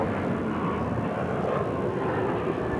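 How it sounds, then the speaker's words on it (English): A United Airbus A321neo takes off from runway 7 left, heard as a steady, broad jet roar that holds at even loudness throughout, distant and with no voices over it. "It's a United A321 Neo taking off 7 left."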